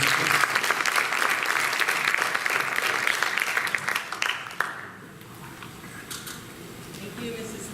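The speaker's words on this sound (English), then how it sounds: "One more round of applause for these 3 great students." Audience applause for three students at a school board meeting, loud sustained clapping for about five seconds before it fades into quieter room noise.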